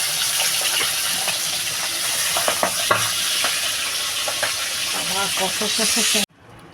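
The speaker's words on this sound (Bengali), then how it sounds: "দ্বিতীয়বারের মাছগুলো আমি দিয়েছি কড়াইতে" Steady loud frying sizzle of pabda fish in a kadai, with scattered crackles and pops, then cuts off abruptly near the end.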